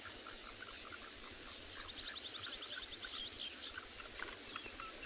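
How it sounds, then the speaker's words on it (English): Tree frogs calling at sunset on an African safari, a dense chorus of rapid repeated chirps and trills in the distance, steady and fairly faint with a high insect-like whine over it, no voices. "But what you hear on the background also, it's all tree frogs."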